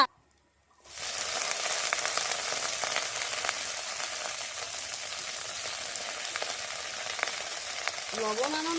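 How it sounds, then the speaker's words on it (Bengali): Saag greens fry in a soot-blackened iron wok at home: after a brief silent moment, a loud, dense, steady sizzle starts and continues without a break to the end. "এখানে আমি শাক বসিয়ে দেবো এখন আর এই কড়াইটায় যেহেতু কালি লাগানো তাই এই কড়াইটাই বসিয়ে দিলাম"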